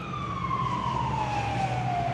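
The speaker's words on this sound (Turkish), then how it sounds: "Zaten sağdan soldan geçiyor polis motoru. Niye siren çalıyor ki onu anlamadım." A police motorcycle siren wails on a city street, a loud, sustained, slowly falling tone over low traffic rumble.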